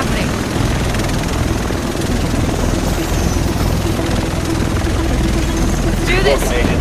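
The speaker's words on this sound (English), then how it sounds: "Here it comes. The rest of us should be in this chopper." Helicopter arriving in The Division, a loud, steady rotor roar with engine whine filling the whole clip, and voices talking faintly beneath it.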